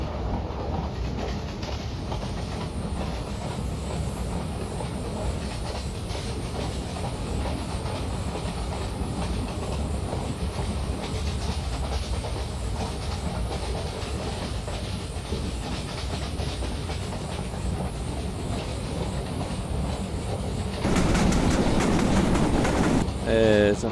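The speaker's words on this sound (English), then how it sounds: "Look at how long that train is." Long train rolling past in the Train Simulator Classic video game on an Indian route, a steady rumbling rail noise with hiss throughout, and a louder, brighter burst near the end.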